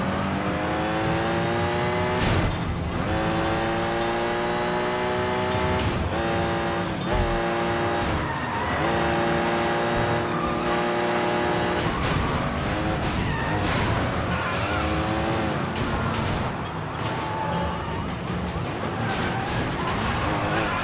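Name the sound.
cars crashing and skidding in GTA video game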